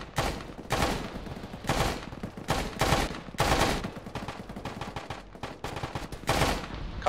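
Enemy fire-team gunfire from the woods in the military game Arma, heard as a series of loud, sharp automatic bursts separated by brief pauses, repeating roughly every half second to second.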